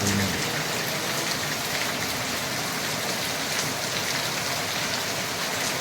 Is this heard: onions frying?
no